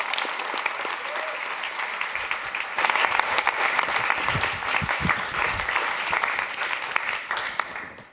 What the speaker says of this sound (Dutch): Geef me een warm applaus